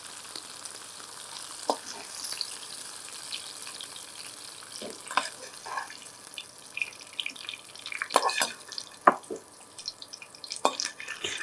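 Bajji chillies, a mild capsicum, cooking lightly in oil in a pan, with faint soft sizzling and occasional stirring scrapes and clinks, quiet and close.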